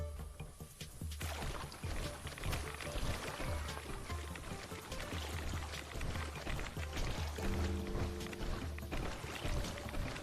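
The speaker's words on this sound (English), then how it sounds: "Collecting dirty water." Dirty water is collected in Fallout 76, heard as a steady, moderately quiet pouring and sloshing of water that runs continuously, with a soft tonal game cue near the end.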